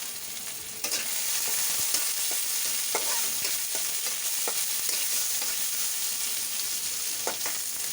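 Chopped onion and green chili frying in a pan for a prawn and taro-stolon curry with green mango, a steady bright sizzle that starts loud after a brief quieter moment, with occasional stirring scrapes and clicks throughout.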